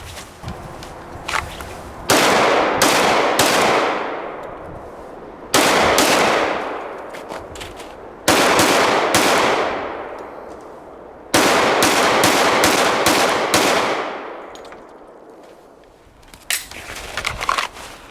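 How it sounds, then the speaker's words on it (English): Rapid strings of loud, close gunfire from a Glock 10 mm handgun with a stock trigger, shots fired in quick bursts separated by brief pauses, echoing at an outdoor range. "I'm going to try to shoot the gun fast"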